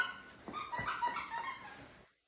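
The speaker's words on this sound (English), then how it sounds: "This is also squeaky toy." A squeaky dog toy squeezed repeatedly during a play session with a dog, a few quick, close squeaks running together over about two seconds before stopping.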